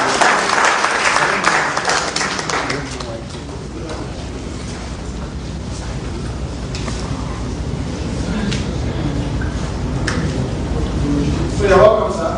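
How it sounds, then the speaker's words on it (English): Audience applause breaks out at an AAC presidential primary event in Abuja, a broad sustained clatter of clapping from a crowd that swells early, then settles into a steady wash with voices mixed in. "Please, a round of applause for me."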